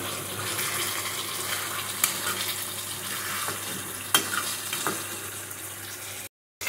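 Mutton fry sizzles steadily over high heat as its water cooks off, with occasional spoon knocks and stirring scrapes over the continuous crackle, which ends in a brief drop to silence.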